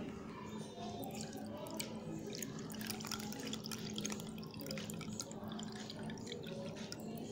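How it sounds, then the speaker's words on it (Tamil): Water left soaking with rice for three hours is poured into a bowl, a steady close trickle with dripping and splashing that runs the whole time, no talking. "அப்புறம் 3 hours ஊற வச்ச ரைஸ் வாட்டர் அதை நான் ஊற்றிக்கிறேன்"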